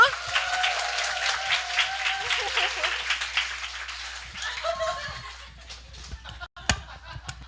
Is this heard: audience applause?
yes